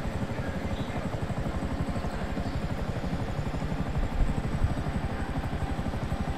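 Rapid, steady rotor chopping of a helicopter in Grand Theft Auto V pulses throughout, close and continuous, with faint clatter near the end.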